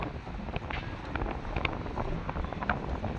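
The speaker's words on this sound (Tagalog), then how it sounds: "Sobrang hangin." Strong wind buffets the microphone with a steady, heavy roar and gusty rumbling throughout, with no voices.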